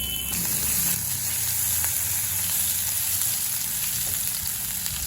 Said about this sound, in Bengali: আদাটা ভেজে নিয়েছি।